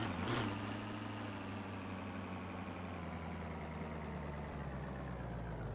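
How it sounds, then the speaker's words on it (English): A diesel truck engine in the video game My Garage runs continuously, a steady, dense rumbling idle with a slight surge at the start, heard alone with no talking. "Don't really love the diesel engine sound in this game."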